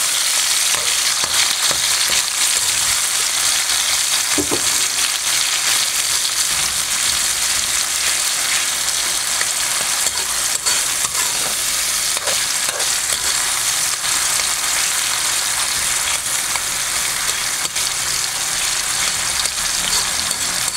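Fermented rice (burong kanin) being sautéed in a pan gives a loud, steady sizzle and frying hiss that runs unbroken throughout, with faint stirring noises under it and no talk.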